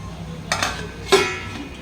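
A metal lid is set onto a cooking pot of spinach vadi mixture being steamed over a high gas flame, giving two short clinks about half a second apart, close and fairly quiet.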